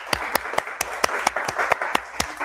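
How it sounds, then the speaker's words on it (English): A brief round of applause for an author at a book launch, made of a small group's sparse, distinct claps in an uneven rhythm, fairly close and lasting only a couple of seconds. "can we give a round of applause to Elizabeth?"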